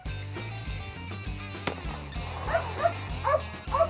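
A hunting dog on a bird hunt gives a run of short, excited yips and whimpers, repeated in quick bursts at close range. Low rumbling noise sounds underneath.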